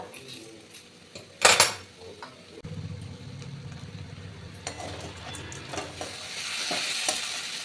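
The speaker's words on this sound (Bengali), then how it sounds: "চালটাও ভালো করে কষে নিয়েছি একদম ভাজা ভাজা হয়ে গেছে" Rice and banana flower stir-fried together in a pan, with a loud metallic clatter of a utensil against the pan, then steady sizzling and scraping as the mix is stirred, growing busier toward the end.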